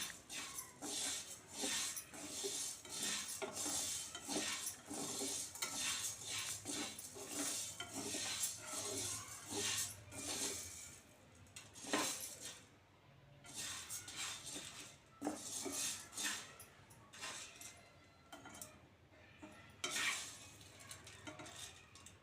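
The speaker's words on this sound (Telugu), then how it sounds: "బాగా ఫ్రై చేయాలండి బాగా ఫ్రై చేస్తేనే పౌడర్ అనేది స్మూత్గా వస్తుంది" Chicken masala powder frying in a pan, with repeated scraping and clinking strokes of a spoon stirring against the metal over a faint sizzle, steady and close.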